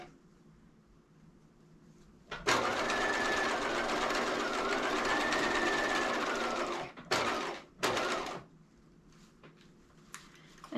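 A sewing machine runs steadily for about four and a half seconds while stitching the lower edge of a lace veil face mask, then gives two short bursts of stitching before stopping.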